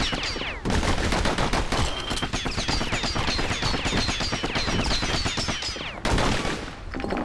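Rapid, dense pistol fire from dual slinger pistols in the video game Bastion, shots packed close together in loud, near-continuous volleys with a brief pause near the end.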